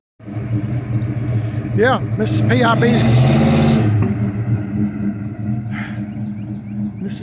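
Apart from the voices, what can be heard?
1984 Chevy C10 truck engine starting and revving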